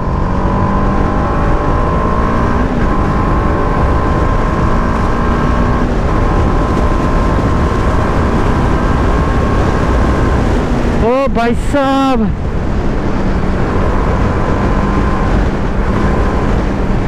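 A TVS Apache RR 310 BS6 motorcycle on the move gives a steady engine drone under heavy, constant wind rush, with a brief warbling whoosh midway and a short spoken remark.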